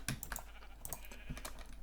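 Sheep in the video game Minecraft bleat a few times, soft and close, mixed with quick clicks of computer keyboard typing in a quiet setting.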